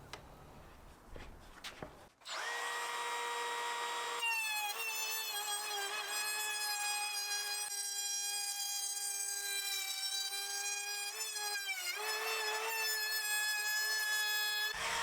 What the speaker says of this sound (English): I marked up where I wanted to route a rebate to the inside bottom edges at the front and back of the bed